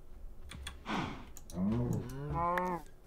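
Cows moo in the Minecraft GregTech video game, two drawn-out lowing calls heard close and clear, with light clicking sounds before them.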